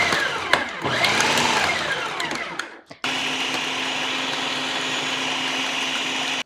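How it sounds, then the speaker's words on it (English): A food processor whirs through dry keto gingerbread scone ingredients (pork rind flour, cocoa powder, gelatin, salt). An uneven motor whine gives way to a loud, steady, close hum. "So you put all that in your food processor."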